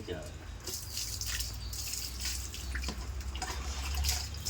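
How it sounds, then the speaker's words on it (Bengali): Running water splashes and drips steadily while a pet is bathed, a continuous close wash of trickling and pouring with brief louder splashes, and a voice talks softly over it. "রিও এই জলে স্নান করছে"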